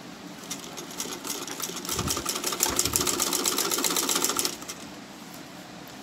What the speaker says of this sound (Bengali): এখান থেকে সোজা একটা সেলাই দিয়ে নিতে হবে